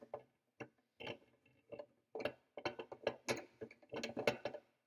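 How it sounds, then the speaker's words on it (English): A sliding mass on a beam balance clicks along the notches of the beam, giving a quick series of small mechanical ticks and rattles that grow denser toward the end. "you slide the mass along until it sits in one of the notches"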